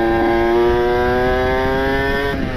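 A Kawasaki Ninja two-stroke motorcycle engine running steadily at high revs, a loud, buzzing, reedy note held evenly close by with a slight dip near the end.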